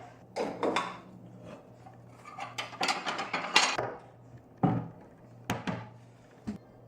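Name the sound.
washing and unloading dishes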